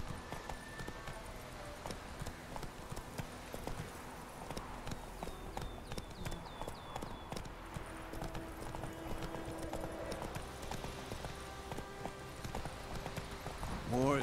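A horse's hooves clip-clop steadily at a walking pace in The Witcher 3 video game, close and continuous beneath voices talking, with a short whinny-like sound near the end.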